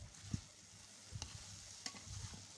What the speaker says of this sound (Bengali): লতিগুলোকে আমি ভাজা ভাজা করে নিব।